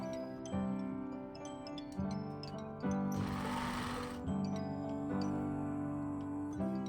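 A sewing machine stitches sleeve fabric in steady whirring runs, pausing and restarting several times, with a louder, denser burst midway; close and clear, with no talking.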